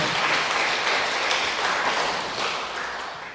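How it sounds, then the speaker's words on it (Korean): A church congregation applauds during a Sunday morning worship service, a dense, loud round of clapping from many hands that carries steadily throughout. "아는 사람한테 박수 한번 쳐줍시다"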